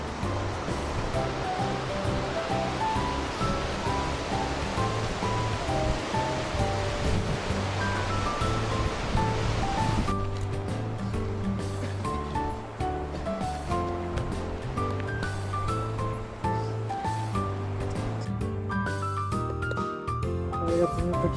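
A river rushes through a mountain valley on the Annapurna Circuit in Nepal, making a steady broadband wash of water noise under continuous background music.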